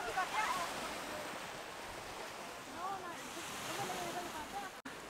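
Ocean surf washing steadily on a beach at Tidsvilde, Denmark, a constant broadband wash with wind buffeting the microphone and brief voices chattering over it.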